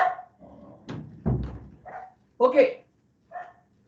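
A dog barks several times in short bursts at close range, mixed in with a person speaking briefly at a desk.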